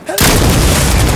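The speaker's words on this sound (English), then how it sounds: "Grenade! Grenade!" A grenade in the shooter game Insurgency Sandstorm detonates with a sudden, very loud, close boom that fills the clip with heavy rumbling roar and barely fades.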